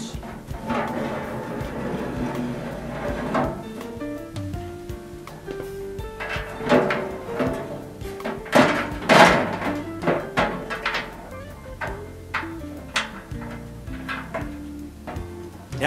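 Someone refits the top pulley cover on a MeatOMatic meat saw, producing a series of irregular metallic clunks, taps and scrapes at close range as the cover is set in place and secured with thumb screws.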